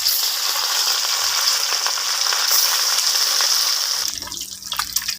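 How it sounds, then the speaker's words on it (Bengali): Pieces of catla fish sizzling in hot oil in a kadai, a loud continuous crackling fry hiss that suddenly drops away near the end, leaving quieter bubbling and a faint low hum. "মাছগুলোকে ভেজে নেব"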